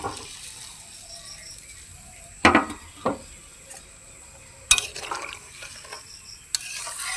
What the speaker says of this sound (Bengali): আলুর সঙ্গে ডিমগুলোকে ভালোভাবে মিশিয়ে নিচ্ছি